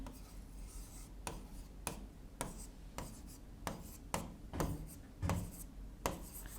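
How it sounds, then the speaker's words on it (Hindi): A teacher writes digits on a classroom board, producing a series of short, distinct scratchy strokes at an irregular rhythm, fairly close and quiet, with no talk. "उसमें मैं अंक लिखता हूँ"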